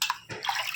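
Water splashing and pouring while fish is washed clean by hand in a bowl, a short sloshing burst with a brief gap and then a second splash, close and fairly loud.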